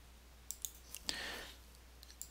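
Computer mouse clicks while setting up a quiz with random sections in a course management tool: a handful of sharp, close single clicks spread over two seconds, with one briefly followed by a soft hiss.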